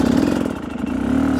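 An enduro motorcycle engine at close range, revving under the throttle with a steady mid-pitched drone that dips briefly and then climbs again.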